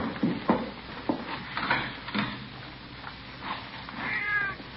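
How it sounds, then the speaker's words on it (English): A cat meows several times, a street cat somewhere outside, the calls fairly close and rising over a noisy background; a longer wavering meow comes near the end. "might be it's just a cat out in the streets, not in the side alley, maybe"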